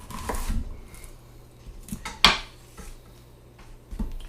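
A kitchen knife chops through an onion on a cutting board, a few sparse knocks followed by one sharp, louder crack of the blade hitting the board, close and without talk.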